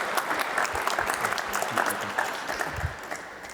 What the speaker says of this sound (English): Can we just get a massive round of applause for the lady at the back?